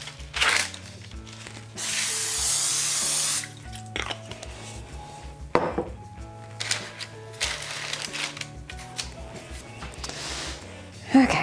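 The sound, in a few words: cooking spray being sprayed onto a baking pan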